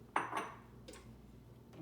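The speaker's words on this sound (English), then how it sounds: "While the soup is simmering, I'm going to give it a little stir." A spoon stirs simmering meatball gnocchi soup in a pot, giving a few faint metallic clinks and scrapes against the pot with quiet gaps between them.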